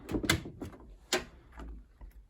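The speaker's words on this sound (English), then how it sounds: "Let's close the door." Washing machine door on an Indesit Moonie being shut, a few close knocks and a louder latch clunk in quick succession, with light handling noises around it.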